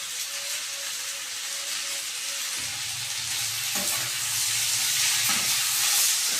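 Onions sautéing in a pan for coriander chutney give a steady, close sizzle with a broad hiss that grows slightly louder toward the end, broken by a few faint stirring knocks.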